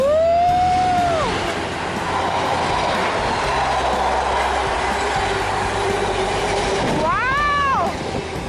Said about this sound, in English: the fast train is coming.